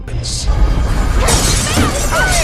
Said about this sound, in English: Max shatters a window with a fire poker